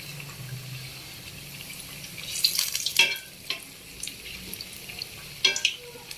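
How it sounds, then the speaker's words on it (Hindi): Bread pakora fries in hot oil with a soft steady sizzle, broken by a few brighter crackling bursts and scraping stirs near the pan. "ये 5 मिनट के लिए हम इसको फ्राई करेंगे।"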